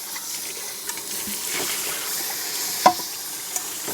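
The inner pot of a power cooker being washed under running water, a steady tap flow with light handling noises and one sharper knock of the pot.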